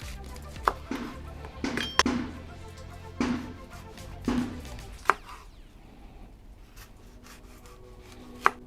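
Knife slicing a bell pepper into thick rings on a board, a series of crisp cuts with sharp taps at an uneven pace, close and fairly quiet, then a short pause before a final tap.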